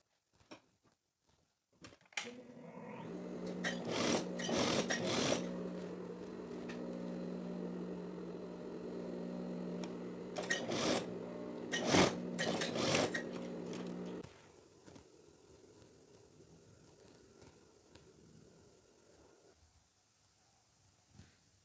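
A sewing machine stitches the shoulder seams of a teddy jacket, a steady mechanical whir running for about twelve seconds with a few louder bursts, then fading to a quieter hum.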